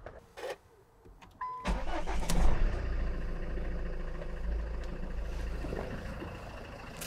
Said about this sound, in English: it took about 4 seconds to start the car and the cranking voltage got quite low